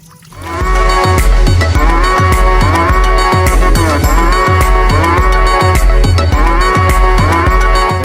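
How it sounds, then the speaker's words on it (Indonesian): A toy cow plays a loud, sustained electronic moo over a repeating bouncy musical beat, steady throughout after a quiet start. "Widih, ini sapi."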